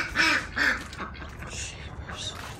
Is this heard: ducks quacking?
yes